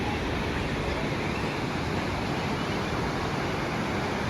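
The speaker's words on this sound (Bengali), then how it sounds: "ঝর্ণার আওয়াজ পাইতেছো।" Kempty Falls waterfall near Mussoorie roars as a dense, unbroken rush of falling water, steady and fairly loud throughout, with no voices over it.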